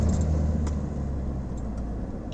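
Inside a car driving along a road, a steady low engine and tyre rumble fills the cabin, easing slightly in loudness, with a few faint light rattles and no speech.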